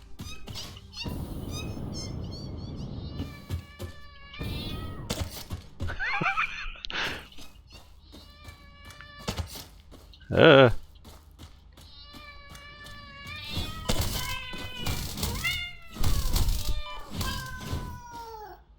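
Cat meows stand in for creature noises in the factory-building game Satisfactory, a string of repeated yowls and caterwauls scattered over the stretch, some overlapping, amid game clatter and a sharp burst near the middle.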